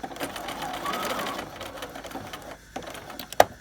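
Sewing machine running a standard stitch while sewing a welt pocket, a close, fast, steady mechanical whir and clatter that slows and stops near the end, with a voice speaking in places.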